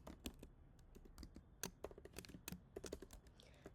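Computer keyboard typing as code is entered, a steady run of crisp, irregular key clicks with a few louder taps, close and fairly quiet with no talking.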